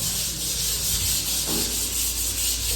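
Sandpaper rubs back and forth against a surface in a steady, close, rasping rhythm of short strokes, continuous for a few seconds with no talking.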